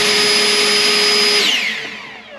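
Ego 56-volt cordless electric leaf blower running on turbo, a loud steady high-pitched whine and rushing air that holds for over a second, then spins down with a falling pitch as the trigger is released.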